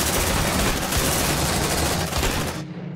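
Sustained, dense automatic gunfire in the video game Aliens: Dark Descent roars loud and continuous for a few seconds before cutting off abruptly.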